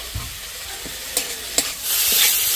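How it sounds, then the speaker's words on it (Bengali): Chopped vegetables and small chicken pieces are stir-fried in a pan for soup, with a continuous sizzle punctuated by a few distinct scraping stirs and a brighter sizzle swell toward the end. "সবজিগুলো দিয়ে আমি 1 মিনিট মতো নেড়ে নিয়েছি"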